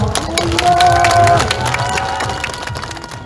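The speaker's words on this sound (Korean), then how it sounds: "큰 박수로 환영해 주십시오." A crowd at an outdoor press conference in Dalseong applauds loudly to welcome a speaker, with clapping mixed with cheers and shouts that gradually ease off toward the end.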